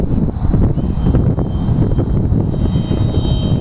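An RC model MiG-15 jet runs at full throttle on a windy day, with a steady, loud, rushing roar and wind buffeting that holds for the whole stretch and no pause.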